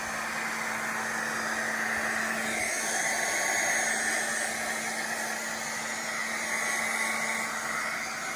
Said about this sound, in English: use a heat gun to just make sure that all of it is properly placed down